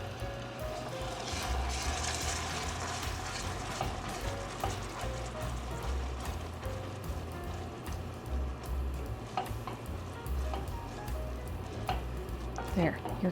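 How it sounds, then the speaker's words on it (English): Caramel bubbling in a pan as heavy cream is stirred in, a steady close sizzle and frying crackle with faint ticks of the utensil running continuously throughout. "you want to stir in 2 tablespoons of heavy cream"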